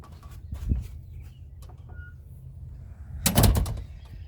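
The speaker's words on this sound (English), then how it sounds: "Door." A stable door at a horse facility opens with two thumping, rattling bursts, a short one early and a louder, longer one near the end. Quiet background noise fills the gap between them.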